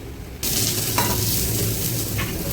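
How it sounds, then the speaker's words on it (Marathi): Onion fries in a pan for a gravy paste for a mutton dish. A loud, steady sizzle starts abruptly and keeps going, with a few scraping stirs mixed in. "हिचं कांदा भाजून होतोय"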